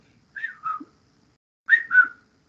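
A person whistles in imitation of a Bigfoot call, two clear up-down whistles, each a rising note followed by a falling one, separated by a short silence, close and alone.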